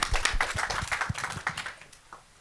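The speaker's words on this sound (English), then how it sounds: "You can give applause for that." Scattered clapping from a packed morning conference audience greets Senator Heidi Heitkamp, a brief patter of hand claps that thins out and fades to quiet within a couple of seconds.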